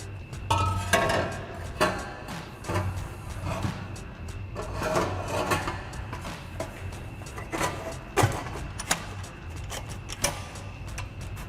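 Metallic clanks, taps and scraping come close up as a Borla ATAK over-axle exhaust pipe is fed into the factory clamp behind the X-pipe of a 2013-2014 Mustang GT. Irregular knocks sit over a quiet background.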